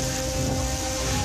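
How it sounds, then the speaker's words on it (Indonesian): Heavy rain with strong wind lashing a village in Nganjuk, Indonesia, a dense, steady roar of downpour and gusts filling the whole stretch at close range with no voices. "Hujan deras dan angin kencang juga terjadi di Desa Sendang Bumen,"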